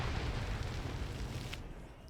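Heavy gunfire and explosive booms in a military shooter game firefight, a dense, loud, continuous low rumble of shots that eases slightly toward the end.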